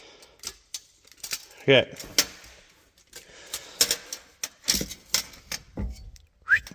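A metal tape measure is pulled out and handled one-handed while unboxing a Badland off-road 1.5 ton jack, giving sharp clicks, rattles and brief zipping blade sounds scattered across the clip, with a short spoken word.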